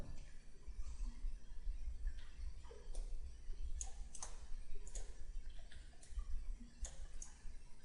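A computer mouse clicks in short, quiet, sharp ticks scattered across the span, some in quick pairs, over a faint background hum.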